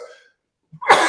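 A single sharp sneeze bursts out near the end, preceded by a brief inhale, after a short stretch of quiet.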